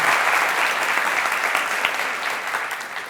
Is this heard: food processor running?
no